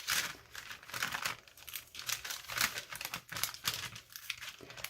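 Scissors cut sticky strips with repeated crisp snipping and crinkling of paper-like material, close up, in quick irregular bursts with no talking.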